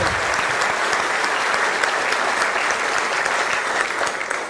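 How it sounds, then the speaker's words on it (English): Audience applause at a pitch event, a full, even roar of many people clapping at once that holds steady from start to finish, close and loud. "Big round of applause for Patrick."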